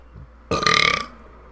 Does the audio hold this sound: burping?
yes